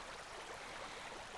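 Gentle river in Costa Rica, a soft steady wash of flowing water, faint and even without distinct splashes.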